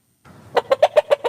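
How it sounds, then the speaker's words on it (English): Hen clucking: a quick run of about six sharp clucks within one second, close and clear, with no talk over it. "A hen."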